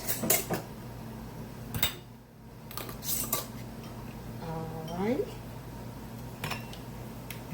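Glass canning jars with metal bands, tightened fingertip tight and filled with vegan chili, knocked into a canner, giving sharp clinks and clatters in separate bursts at close range, with a brief creak of metal.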